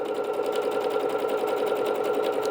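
A Bernette B-77 sewing machine sews a decorative stitch, giving a steady, even rapid whirring hum with fine repeating needle pulses throughout, close and alone with no talk.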